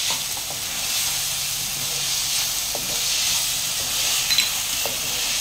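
Chili sauce sizzles in a pan of soybean manchurian with a steady, hissing fry, moderately loud and continuous, with faint occasional pops and no talk.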